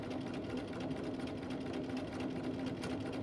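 A domestic sewing machine runs a continuous straight seam, back stitching through fabric with a fast, even mechanical whirr and rattle heard close up and alone.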